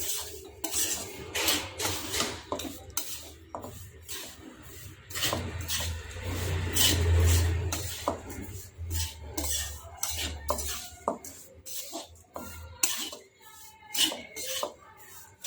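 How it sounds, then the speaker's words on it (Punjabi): Spoon scraping and clattering against a pan while sugar is stirred into flaxseed panjiri, rapid irregular metallic strokes up close, loud and continuous. "ਸ਼ੱਕਰ ਨੂੰ ਆਪਾਂ ਮਿਕਸ ਕਰ ਲਵਾਂਗੇ"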